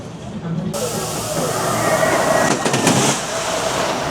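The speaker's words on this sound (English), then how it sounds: "just feel the power of that hydraulic launch" A loud, rushing whoosh of a roller coaster's hydraulic launch nearby at Thorpe Park, broad hissing roar building and swelling, with a voice heard over it.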